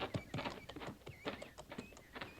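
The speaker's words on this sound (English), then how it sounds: "Mind his horse, Sergeant." Horse hooves clip-clop in a quick, uneven run of close, distinct knocks, fairly quiet and with no talk over them.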